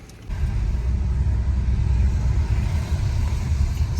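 A car is driven through Guilin in China, its engine and road rumble a steady low drone heard from inside the cabin, starting abruptly and holding even and loud throughout, with no talk.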